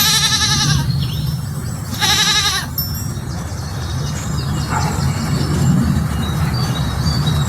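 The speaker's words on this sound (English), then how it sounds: "Goat." A goat bleats twice up close, two loud quavering cries about a second long each, followed by faint background noise.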